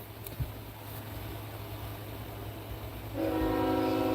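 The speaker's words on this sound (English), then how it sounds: "Train coming by as I'm saying that" A train rumbles past outdoors with a steady low roll, then its horn blares loud and sustained over the last second or so.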